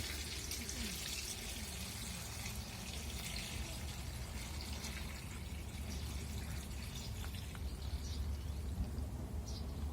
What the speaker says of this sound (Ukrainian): 5 літрів води взяв і 250 грам солі.